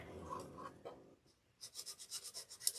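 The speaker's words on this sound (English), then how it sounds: "let me see if I can just sand some of that off" Rapid back-and-forth sanding strokes rasp against a wooden craft elf-leg door hanger, a close, even series of about a dozen rubbing passes after some quieter handling.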